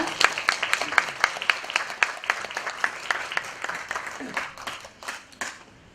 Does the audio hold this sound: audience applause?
yes